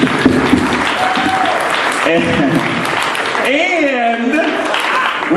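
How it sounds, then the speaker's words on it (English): Wedding guests give a round of applause after the ceremony, with dense, sustained clapping filling the room while voices talk over it. "Can we get a round of applause for that?"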